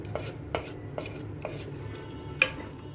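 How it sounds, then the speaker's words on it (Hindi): A spoon stirs tomato rice in a metal pot, giving several distinct scraping clinks at irregular intervals, close and moderately loud with quiet gaps between them. "एक बार अच्छे से मिक्स कर देंगे।"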